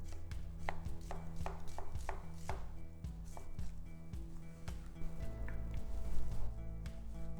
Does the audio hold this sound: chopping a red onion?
yes